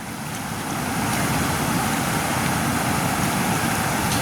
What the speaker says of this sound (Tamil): இப்போ தண்ணி வந்து இன்னும் வேகமாக பாஞ்சு கொண்டு இருக்காண்டு பாருங்க